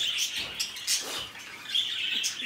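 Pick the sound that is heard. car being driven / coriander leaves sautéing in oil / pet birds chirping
pet birds chirping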